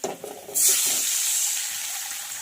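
Batter mixture poured into a sizzling tempering of garlic, cumin and curry leaves, a sudden loud hiss and sizzle that starts after a few quiet stirring clatters and holds steady.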